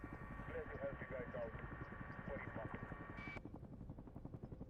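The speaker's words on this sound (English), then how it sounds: "we're still one of 8 sitting in a helicopter" A helicopter carrying a squad in an online shooter game throbs with a fast, steady rotor chop and engine whine that hold throughout, heard from inside the cabin.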